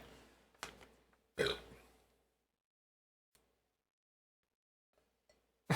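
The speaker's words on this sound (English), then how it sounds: "Keep burping." A man burps loudly after drinking a can of PBR beer: two close, harsh bursts near the start, then a long quiet stretch with a few faint clicks.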